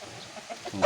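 A chicken clucks briefly nearby, a few short soft calls ending in a louder squawk.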